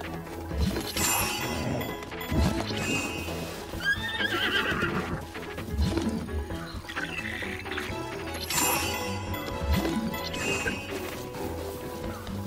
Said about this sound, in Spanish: ¿Pero qué hay de tu caballo? Eh, ahora me está pisoteando.